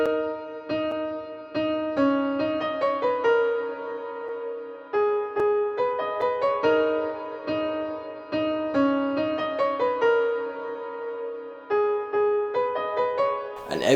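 Humanized piano melody with slightly uneven timing and velocity, repeating short chord-and-note phrases over about fourteen seconds, clear and moderately quiet with brief pauses between phrases.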